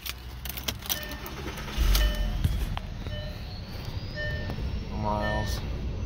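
A 2007 VW Beetle engine starting up inside the car, heard as a short low crank and catch around the middle, then a steady idle with faint electronic beeps and chimes.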